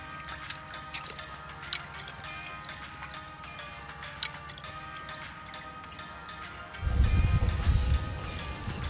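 Fish being rinsed under running water while prepared for stuffing with vegetables and steaming on a grill: a steady trickle and drip throughout, swelling into a louder, fuller gush of water near the end.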